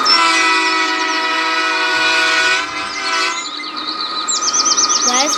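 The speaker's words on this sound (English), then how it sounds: "horn." An SD40-2 locomotive horn sounds one long, loud, steady chord close by, then cuts off, leaving quieter rail noise and high chirping tones.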